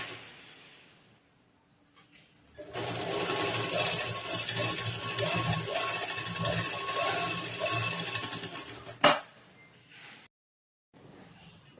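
A sewing machine stitches a blouse, a fast, steady mechanical whir running for several seconds before stopping with a sharp knock, followed by quiet handling sounds.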